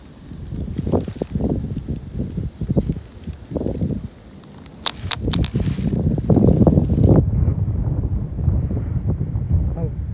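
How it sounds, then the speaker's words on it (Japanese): Gusty wind buffets the microphone on a riverbank while stone hunting along the Shonai River in Aichi, with heavy low rumbling bursts that build and then hold steady, alongside brief rustling and occasional talking. "はあ、風が出てきた。"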